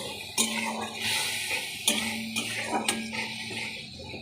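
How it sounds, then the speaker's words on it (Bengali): Dry ground spices (coriander, cumin, chilli, turmeric) stirred in a pan, a spoon scraping and clinking against the metal in a few distinct strokes over a faint sizzle, close and fairly quiet. "তো এবারে একটু ভালো করে কষিয়ে নেব।"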